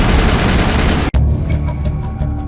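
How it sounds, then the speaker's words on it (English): Gunfire crossfire during a Mass Effect battle against Geth: a loud, dense fusillade of rapid shots fills the first second, breaks off sharply, then resumes as steady automatic fire with ringing tones through the rest. "Manovai is under coordinated crossfire."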